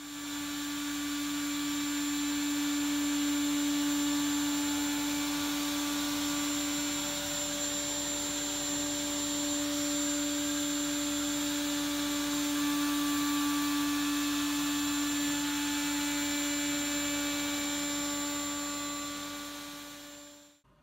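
A router running steadily at close range while chamfering the edges of a wooden cutting board, with a strong even motor whine holding for about twenty seconds before cutting off.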